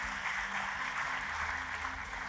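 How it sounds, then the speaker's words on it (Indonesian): Church congregation applauding for God during a worship service, a steady dense wash of clapping sustained throughout, with tonal music or an organ-like hum underneath. "Tepuk tangannya pula yang paling meriah buat Tuhan kita"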